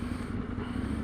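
An Aprilia Gen 1 Tuono engine hums smoothly as the throttle is rolled on around 2,000 RPM, a steady low drone heard from on the bike with wind noise.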